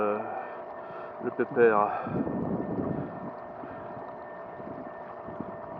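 Electric motor on an inflatable kayak run at full power, drawing 31 amps at 400 watts, a steady tonal whine with a low hum throughout, briefly under a man's speech near the start.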